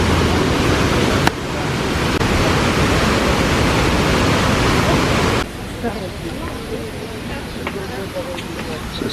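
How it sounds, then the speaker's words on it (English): Rushing water of the Düden Waterfall in Antalya makes a steady loud roar, which drops to a softer wash partway through, with people talking nearby. "I can definitely hear some water at this point."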